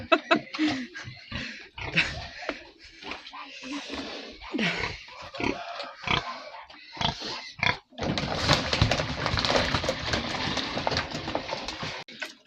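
Pigs grunt and snort in short, irregular bursts close by, followed by a steadier stretch of dense noisy grunting and rustling.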